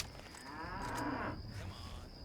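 Brahmin cattle in the video game Fallout 3 let out a single drawn-out, low moo over a quiet ambient background.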